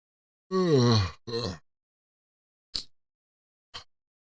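A man gives a long, groaning yawn that falls in pitch, then a shorter follow-up sound. Two brief breathy clicks come after it in an otherwise quiet room.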